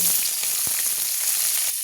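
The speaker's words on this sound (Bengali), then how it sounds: "কড়াইয়ে অল্প তেল দিলাম, প্রথমে গরম মশলাগুলো দিয়ে দিলাম, এরপর পেঁয়াজগুলো দেব" Whole garam masala frying in a little oil in a kadai as onions are added, producing a brief, steady, close sizzle with no talking.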